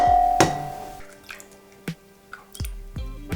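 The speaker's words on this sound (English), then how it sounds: "You just want to add the eggs into a bowl and then just whisk them shortly" Eggs are cracked into a bowl for baked donut batter, giving a few sharp taps and wet drops spaced across a few seconds, heard up close with no talking.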